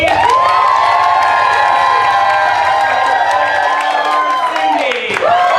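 Loud, sustained crowd cheering and shouting from an audience at a school improv show, a continuous roar of voices with whoops that dips briefly near the end.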